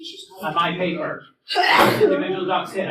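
A single sharp sneeze from a person in a classroom, loud and close, set between stretches of people talking.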